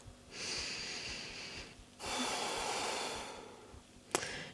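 Slow, deep breaths during a yoga neck stretch, two long airy exhales through the nose or mouth, close and soft, then a brief sharp sound at the end.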